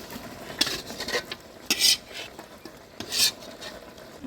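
Meat being stirred in a pot while cooking biryani at home: intermittent scraping and clinking strokes of a utensil against the pot, several distinct bursts separated by short pauses, close and fairly quiet, with a faint sizzle beneath.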